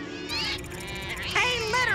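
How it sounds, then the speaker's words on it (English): A gang of cartoon cats meows in overlapping, rising and falling calls, several voices at once and fairly loud, with brief gaps between bursts. "That's a lot of cats."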